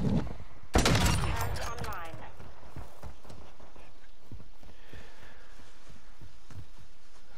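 A single sharp sniper rifle shot cracks out loud and close in a first-person shooter game, followed by quieter handling clicks and faint background game noise.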